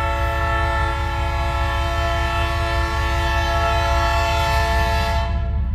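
A CN freight train passes at West Ladysmith, close and loud, with a sustained multi-tone horn blast held over a heavy rumble of rolling wheels, cutting off near the end.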